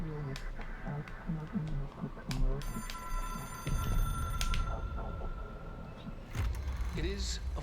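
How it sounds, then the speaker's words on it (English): Telephone ringing in the Control video game, repeated electronic ring bursts heard mid-clip under someone talking, with footsteps and game ambience around them. "It is a phone. It's an object of power."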